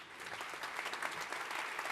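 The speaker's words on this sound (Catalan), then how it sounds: "un fort aplaudiment per qui fa possible aquests Premis Talent" An audience at the Premis Talent 2017 awards gala claps steadily, a dense and even round of applause that sounds faint and distant.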